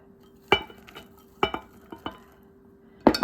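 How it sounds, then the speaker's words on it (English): A spoon stirring chopped onions into fritter batter in a bowl, heard as a few sharp clinks and scrapes against the bowl in short bursts separated by quiet gaps. "that many onions and stir it around."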